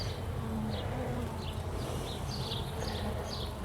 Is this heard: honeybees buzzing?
yes